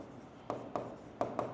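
A pen or pencil writes out a Bangla-medium secondary-school geometry solution by hand, giving four soft, separate scratches and taps close by in a quiet room.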